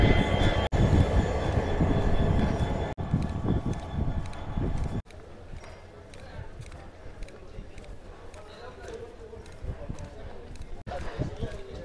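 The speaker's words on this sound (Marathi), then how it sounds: "जवळपास अर्धा तास झालं ट्रेन इथंच उभा आहे" A long train stands at a station, its low mechanical hum and rumble running steadily under nearby talking and platform noise.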